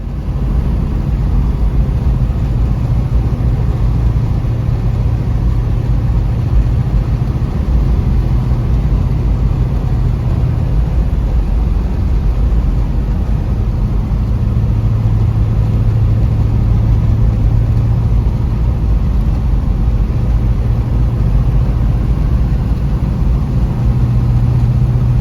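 A 1970 Pontiac GTO on the road, its engine holding a steady, rumbling low drone throughout with slight swells in pitch as it cruises, loud and close with no talking.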